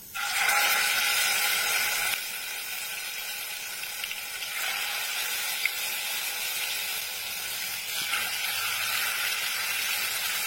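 Chicken pan-frying in a small amount of oil, a steady loud sizzle and hiss that holds throughout with slight shifts in intensity, no voices over it.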